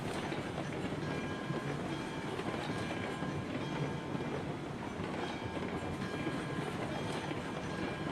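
Locomotive in the game Railroads Online laboring uphill, a dense continuous rumble and rolling rail noise with faint clatter, steady and loud from start to end.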